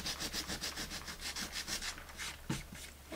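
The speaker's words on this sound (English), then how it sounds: "See what kind of sanding I'd have to do to get some of that off of there." Rhythmic abrasive rubbing, a sanding disc scraping back and forth in regular strokes over a painted tray, with a small knock near the end.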